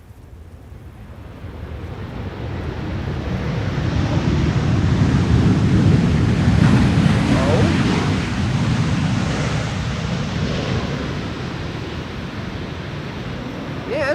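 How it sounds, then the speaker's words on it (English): A KLM Boeing 737 on landing at Amsterdam Schiphol uses its thrust reversers, a loud, broad roar that swells over several seconds, peaks, then settles into a steady rumble, heard from a distance in open air with some wind noise. "That is a KLM 737 using reversers."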